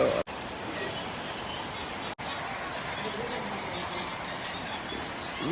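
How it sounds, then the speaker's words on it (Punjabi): Heavy rain pours down in a steady, dense hiss that barely changes, with two brief dropouts in the sound. "ਮੀਂਹ ਪੈਣ ਲੱਗ ਗਿਆ ਬਾਰੇ ਮੋਟੀ ਮੋਟੀ ਕਣੀ ਚੱਲਦੀ ਆ"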